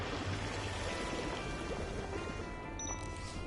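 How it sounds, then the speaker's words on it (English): Water spray in the Beyond a Steel Sky video game, a steady hissing, pouring gush that runs on without a break at moderate loudness, with no voices over it. "Commencing spray. Please stand back."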